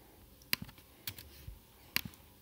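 A computer keyboard is typed on in short, sparse bursts of crisp key clicks, close and fairly quiet, with a few isolated taps between them and no talking.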